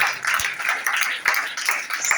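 Church congregation clapping hands together in a steady, busy patter of many claps at close range, with brief louder accents and no clear talk over it.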